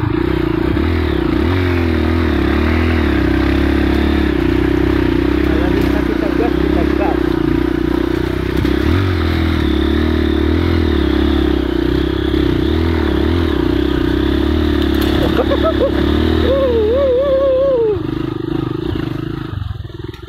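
Kawasaki KLX dirt bike riding through a forest, its engine droning loud and close throughout with shifting revs, while a voice speaks over it and brush scrapes and clatters along the way.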